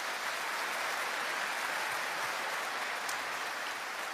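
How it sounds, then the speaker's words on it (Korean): A large seminar audience claps continuously, a dense steady wash of applause with no pauses, even in level and somewhat distant. "나 자신을 위해서 진심 어린 박수 부탁드리겠습니다"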